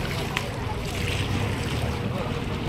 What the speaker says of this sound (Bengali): এখানে আবার জল বেশি হওয়ার জন্য ডিঙিটা সহজেই যাতায়াত করতে পারছে